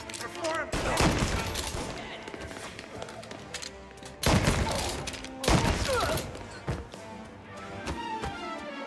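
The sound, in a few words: gunfire from a firing squad in the video game Mafia Definitive Edition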